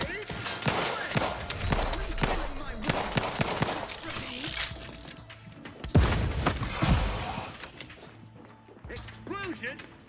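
Gunfire and a grenade blast in a video game: rapid bursts of shots and sharp explosive cracks, mixed with voices talking over the combat.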